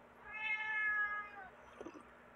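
An unneutered male cat shut in a room lets out a single drawn-out, tonal meow close by, followed by a few soft muffled shuffles.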